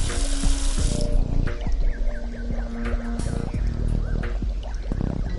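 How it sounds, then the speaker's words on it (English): Water runs steadily from a faucet into a sink in an Adventure Time video game, a continuous splashing stream mixed with game music and effects. "A faucet. No sink is complete without one of these."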